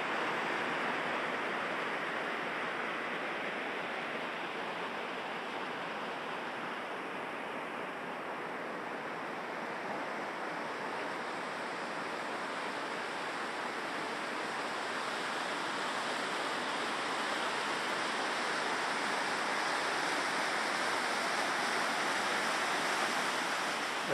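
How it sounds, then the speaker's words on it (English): An indoor waterfall in a supermarket pours in a steady, broadband rush of falling water that stays loud and even throughout, with no voices. "A supermarket with a waterfall."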